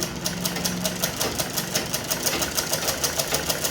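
Sewing machine stitching the folded bottom hem of a silk petticoat skirt, a steady fast rhythmic whirring with regular needle ticks throughout, moderately loud and close, no talking.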